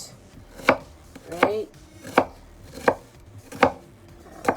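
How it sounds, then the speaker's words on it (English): Knife chopping ingredients on a cutting board for lomi lomi salmon, five evenly spaced, fairly close thunks at a slow, steady pace, with a brief spoken word. "you can cut it up any which way you like"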